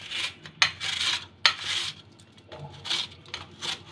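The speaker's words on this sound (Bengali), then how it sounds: "এখন আমগুলি গ্রেট করে নিচ্ছি।" Raw green mangoes are grated into long shreds on a metal grater for a sweet, sour and spicy raw-mango sweet, giving a run of close, irregular scraping rasps with a few sharp clinks, and no talk.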